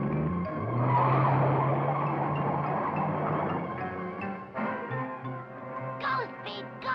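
Cartoon race car revving loudly as it starts up, then a tire squeal and the engine pulling away, with quick whistling sound effects near the end.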